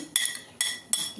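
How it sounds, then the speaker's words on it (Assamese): Roasted, peeled eggplant being mashed in a dish, heard as three sharp metallic clinks of a utensil striking the dish at roughly even intervals, close and fairly quiet. "বেঙেনাখিনি পিটিকা কৰিবলৈ লৈছোঁ।"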